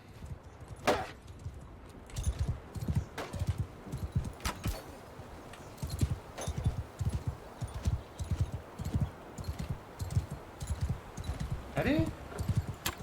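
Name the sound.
horse hooves in video game Mount and Blade II: Bannerlord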